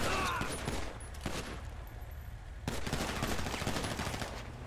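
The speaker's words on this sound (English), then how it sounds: "I'm getting shot at." Gunfire aimed at a sheriff's deputy rings out as several loud bursts and a rapid volley, with echoing reports blurring together over a noisy outdoor background, near and harsh, with no voices.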